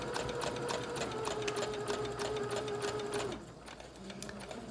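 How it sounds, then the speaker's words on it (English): A sewing machine stitches a pair of recycled fabric pieces with a quarter-inch seam allowance, running in a fast steady rhythm up close before slowing and stopping. "I'm just going to sew with a 1/4 inch allowance like normal"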